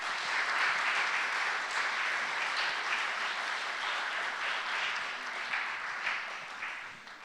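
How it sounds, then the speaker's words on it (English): A warm round of applause from an audience in Doha for fencer Ibtihaj Muhammad, steady dense clapping from a large room that holds evenly and fades slightly at the end. "please do give a very warm Doha round of applause for the formidable Ibtihaj Muhammad"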